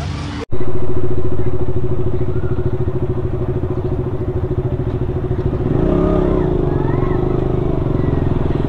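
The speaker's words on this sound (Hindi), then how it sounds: "आता आपण 2 गाड्या घेऊन चाललोय. एक नितीशची KTM आणि आपली KTM." Two KTM motorcycles ride together from Koliwada toward Nariman Point in Mumbai, their engines droning loud and steady and close throughout, with rhythmic low pulsing and a brief rise near the end. Faint voices may sit under the noise.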